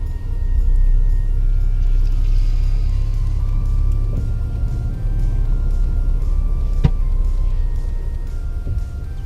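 Steady low engine rumble of a car driving through downtown Ogden, Utah, with passing traffic and a brief sharp knock midway, continuous and fairly loud throughout.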